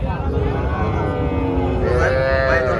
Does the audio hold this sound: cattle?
yes